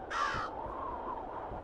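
A single loud crow caw rings out in Root of Evil: The Tailor, one harsh rasping call up close, then a low quiet ambient hum.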